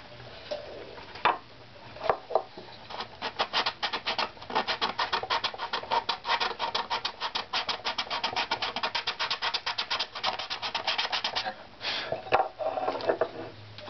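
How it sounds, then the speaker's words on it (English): Sandpaper rasps over a wooden violin back plate strip in quick, rhythmic back-and-forth strokes, close and clear, with a few separate scrapes at the start and end. "so I'll scrape a little extra there. sandpaper to that."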